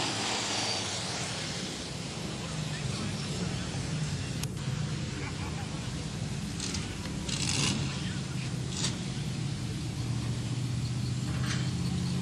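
Stock cars race around Carina Speedway, a continuous loud drone of engines and tyre roar with a few sharp scraping bursts, and a commentator's voice underneath.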